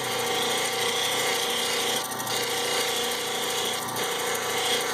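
Grinding wheel shaping a Mexican opal, the stone pressed hard against the wheel in a steady, continuous whir with a mechanical hum, close and unbroken, with a couple of faint scraping swells along the way.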